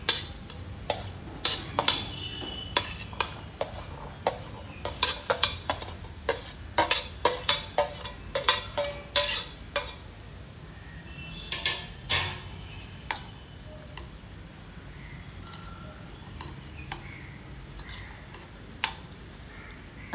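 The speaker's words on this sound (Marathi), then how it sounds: "आता आपण ह्या सगळ्या गोष्टी एका भांड्यात मिक्स करणार आहोत." Paneer, tomato, onion, mint and pomegranate being mixed in a bowl for paneer masala dosa, heard as steady quiet clinks and ticks of a utensil against the bowl, with no talk.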